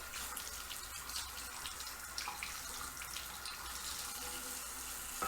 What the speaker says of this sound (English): I'm gonna rinse off here.